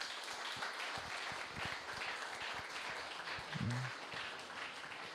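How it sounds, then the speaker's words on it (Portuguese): A church congregation applauds, a fairly faint spread of many hands clapping steadily for about five seconds in a worship service. "Aplauda o Senhor Jesus por isso."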